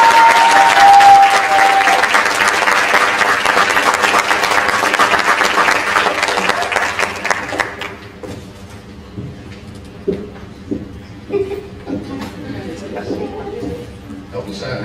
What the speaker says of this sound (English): Clap it up for Tyra.